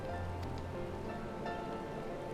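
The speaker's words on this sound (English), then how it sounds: "it's just pissing down rain" Heavy rain falls steadily in the game Final Fantasy XIV, a dense unbroken wash of downpour under faint background music, with no voices.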